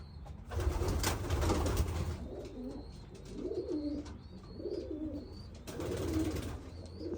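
Racing pigeons coo in soft, repeated throaty rolls close by, several birds overlapping against a steady background hiss and faint higher chirps.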